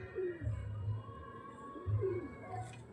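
Pigeons cooing in a loft, soft throaty coos in two bursts with a bird call in between, fairly close and moderately loud, with no talking.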